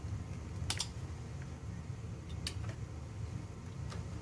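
A sharp blade slices through leather sole material in a few quiet, crisp ticking cuts over a steady low background hum.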